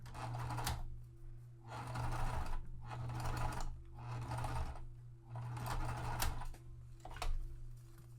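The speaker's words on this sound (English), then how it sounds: "I am just going to top stitch across the top" A sewing machine top-stitching across fabric with a regular presser foot, running in several steady whirring bursts separated by short pauses, close and clear with no voices.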